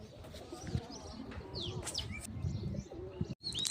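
Pigeons coo and chirp at close range over a busy outdoor background, with a brief wing flutter near the end, as grain is scattered for them in Rajula.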